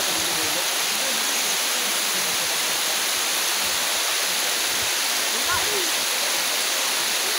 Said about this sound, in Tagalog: Ayun na po, yung falls.